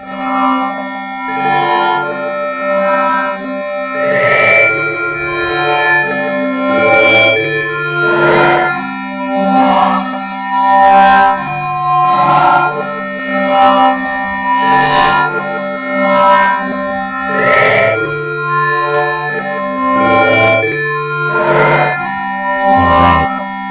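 A thick, buzzing Hydrasynth drone with heavy distortion and echoing effects, pulsing steadily in repeated swells, loud and continuous with no voices.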